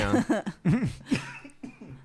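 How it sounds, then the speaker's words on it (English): A short cough burst amid a casual podcast conversation, close and clear, with a brief spoken word after it. "I made you cough"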